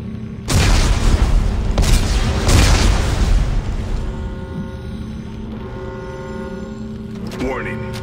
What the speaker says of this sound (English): Computer, arm explosives. And detonate.